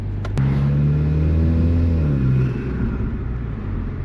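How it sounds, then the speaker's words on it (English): A turbocharged four-cylinder car engine revs up and holds high, with a rising harmonic whine peaking mid-clip and then easing back to a steady idle rumble, close and loud with no talk. "There's some nice turbo noises, and the 4-cylinder actually sounds really good for a 4-cylinder"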